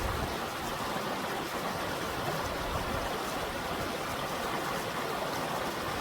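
Hiker wading through a flowing stream on the Superior Hiking Trail, with a constant broadband rush of moving water that stays even and close throughout, no voices.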